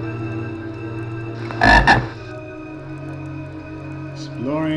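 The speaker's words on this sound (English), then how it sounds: "Exploring the noises of loud frogs." Loud croaking of large red frog creatures in the dungeon game Ravenloft: Stone Prophet, one short burst of deep croaks near the middle over a steady humming game ambience, with more croaking toward the end.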